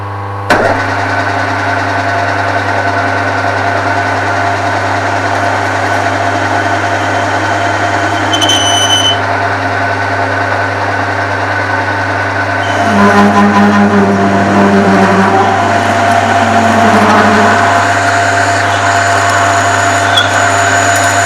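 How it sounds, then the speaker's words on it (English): A pulley being machined with a boring tool on a lathe for an ATV flail mower, with a constant motor hum and whine throughout and the cutting noise turning rougher and louder during the later part. "I can clean it up with a boring tool"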